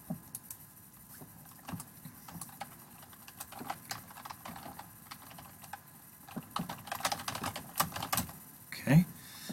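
Rapid typing on a computer keyboard, light irregular key clicks tapping along steadily, close and moderately quiet, with a few louder keystroke bursts near the end.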